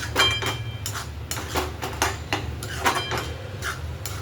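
A spoon scrapes and clatters in a pan of moong dal cooked with onion and coriander, several short metallic knocks and scrapes at close range, with no talking.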